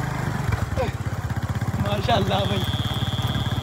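Motorcycle engine chugging in a steady, close, rhythmic idle-like beat while being ridden, with someone speaking briefly over it.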